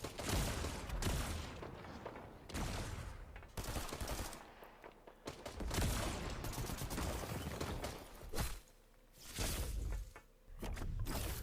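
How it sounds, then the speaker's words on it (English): Foundation Rift Rifle firing in the Fortnite video game, loud sustained bursts of rapid gunfire with booming impacts, broken by brief pauses between volleys. "And then we got the Foundation Rift Rifle."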